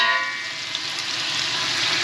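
Sauce from a small tin poured into a very large pot for Tony's couscous, giving a steady close hiss and sizzle that runs unbroken from start to finish, with no one talking over it.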